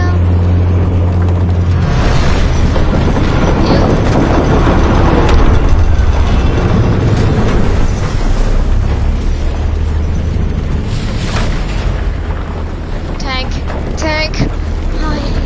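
In a WW1 trench VR game, a tank engine rumbles loudly throughout while heavy explosions and booms keep bursting over it, and the whole scene stays dense and close.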